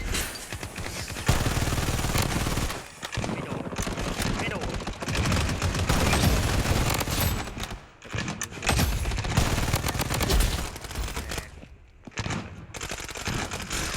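Gunfire and defensive turret shooting in a video game: dense, loud rapid-fire bursts and blasts that run almost continuously, broken by a few short gaps, with talk mixed in.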